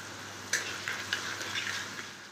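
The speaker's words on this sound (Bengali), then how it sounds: "এবার আমি আলুটাকে ভালো করে ভেজে নেব।" Potatoes frying in a pan with a little salt, giving a steady close sizzle with a few light clicks and scrapes from stirring, no voices.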